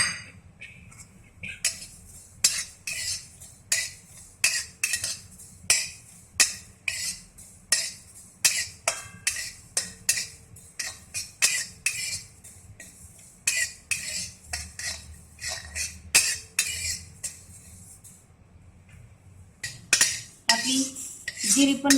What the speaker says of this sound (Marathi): जिरे भाजून घेऊ आपण तीस ग्रॅम जिरे घेतलेले आहेत